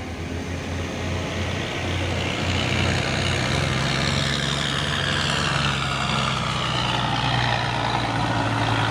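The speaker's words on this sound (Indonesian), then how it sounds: "Ini satu lagi trailer" A single-axle trailer truck drives past on the Bukit Kodok climb, its engine a steady, loud, continuous rumble throughout with no talking.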